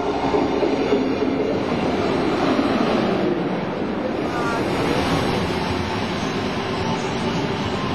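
A passenger train rumbles along a single-track line, a steady continuous roar of wheels and wind noise with no break, heard close and fairly loud.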